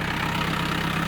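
A scooter engine idles at very low RPM with a steady, even, close drone and a fine rhythmic pulse throughout, no voices present.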